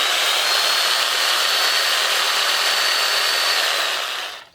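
A reciprocating saw powered by a GOOLOO 500W power station runs with a loud, steady buzzing roar for several seconds, then winds down abruptly at the end.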